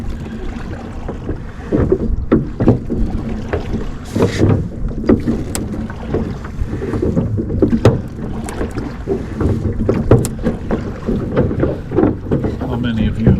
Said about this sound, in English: it's a nice quiet evening for a long row back to the boat launch